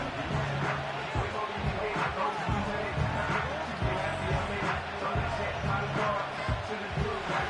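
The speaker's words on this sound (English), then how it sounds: "The crowd cranking it up another notch before 3rd and long" A simulated football stadium crowd in Madden 25 roars steadily at a Steelers vs. Ravens playoff game. A commentator talks over the dense, continuous broadband crowd noise.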